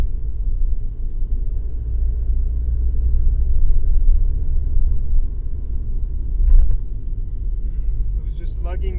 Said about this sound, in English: It was just lugging there for a second in gear, didn't have the RPM up.